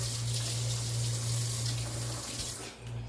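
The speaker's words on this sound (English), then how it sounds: "let me rinse my fork off." Kitchen tap running steadily as a fork is rinsed under the stream, a continuous close splash of water with a low hum beneath it and no talking.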